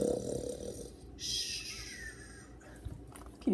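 A person imitates a loud snore, a rough nasal rumble followed by a short snort-like breath, close and alone.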